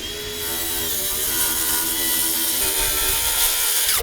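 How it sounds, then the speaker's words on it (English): A power saw set just over half an inch deep cuts a roof sheathing sheet in one continuous loud, whining cut lasting a few seconds, then stops abruptly. "got my saw set just over 1/2 inch so we can make this cut right in the basket."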